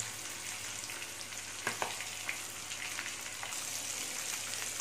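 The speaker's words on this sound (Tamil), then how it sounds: "மீடியம் ஃப்ளேமில் வச்சுக்கோங்க நல்லா பொறிச்சு எடுத்துக்கணும்" Sardines shallow-frying in hot oil over a medium flame, a quiet, even bubbling sizzle with a few brief clinks and crackles of a utensil partway through.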